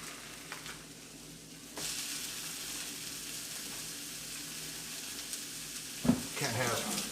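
Sausage crumbles frying in a pan for lasagna: a quiet start, then a sudden steady broadband sizzle from about two seconds on, with a sharp clatter of a utensil near the end.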